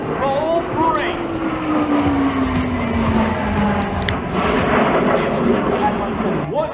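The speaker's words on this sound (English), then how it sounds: "The Blue Angel barrel roll brake." Blue Angels jets roar overhead during a barrel roll break at the 2014 Vectren Dayton Air Show. Loud engine noise sweeps past with falling, whining tones, and an announcer talks over it.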